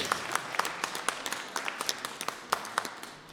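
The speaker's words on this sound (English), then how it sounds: "Let's have a clap." Small audience clapping at a boxing press conference, a scattered round of claps with sharp irregular hits at a steady moderate level that tails off slightly at the end.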